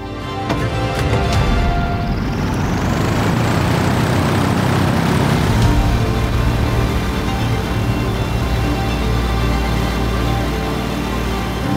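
Rolls-Royce Spirit of Innovation electric aircraft taxiing under its own power, a steady, loud propeller and motor drone with a rising whine at the start, continuous and alone for the whole stretch.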